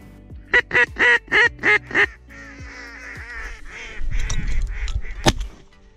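Wild ducks call outdoors on a hunting outing: a run of six loud, evenly spaced honking quacks, then a softer stretch of chattering calls with rustling and a sharp knock near the end.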